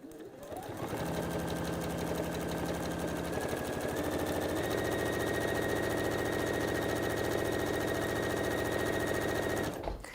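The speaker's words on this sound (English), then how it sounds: "So you just want to top stitch down there." A sewing machine runs steadily, top stitching fabric, a continuous close whirring drone that holds for about nine seconds alone before stopping abruptly.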